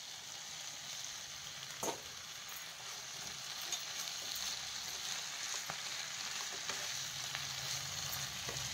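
Spinach leaves and tomatoes sizzling in hot oil in a pan: a steady, close frying hiss with occasional stirring clicks and scrapes throughout.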